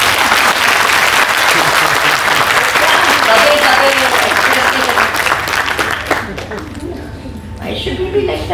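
Loud applause from an audience at a teachers' session, dense steady clapping that thins out after about six seconds, with some voices mixed in.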